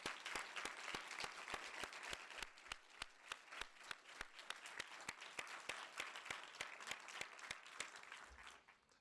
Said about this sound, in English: They deserve a great round of applause.